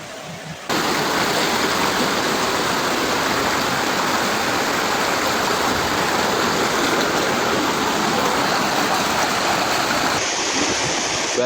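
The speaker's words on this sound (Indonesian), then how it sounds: "Air masuk rumah, air masuk rumah." Flood water from an overflowing river rushing into houses during a major flood in Semarang at night, a loud, steady broadband roar that starts abruptly and continues throughout, with no clear talk.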